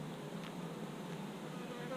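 Bees swarm over an open beehive frame full of brood, making a steady, dense, close drone that holds evenly throughout with no pauses.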